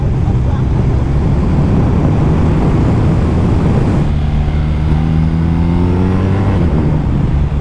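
BMW R1250 RT flat-twin motorcycle engine while riding two-up, a loud steady drone under heavy wind noise, rising in pitch as it accelerates in the second half.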